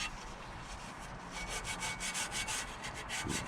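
Scotch-Brite pad scrubbing a Toyota Previa valve cover, giving a steady, fairly quiet abrasive rubbing with quick repeated back-and-forth strokes.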